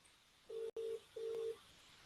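A faint electronic telephone ringing tone during a call sounds as short steady beeps, two bursts close together then a third after a pause, with a brief dropout between the first two.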